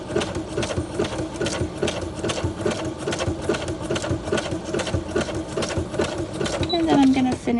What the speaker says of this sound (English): go back to my zigzag